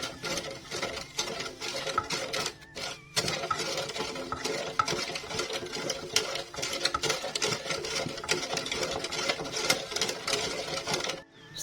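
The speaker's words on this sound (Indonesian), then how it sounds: "Dan selanjutnya kita akan aduk untuk gula dan airnya biar gulanya cepet larut" Sugar and water being stirred in a pot for syrup, a steady scraping and clinking of a utensil against the pot that runs almost continuously with brief pauses, close and fairly quiet.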